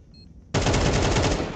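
A brief quiet moment, then sudden rapid automatic gunfire bursts loud and continuous for about a second in the video game Counter-Strike 2.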